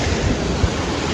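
Monsoon floodwater surges around a submerged village bridge in Vayal during a July flood, a steady close roar of rushing water with no voices.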